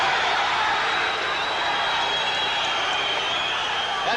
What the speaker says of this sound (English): That brought this crowd alive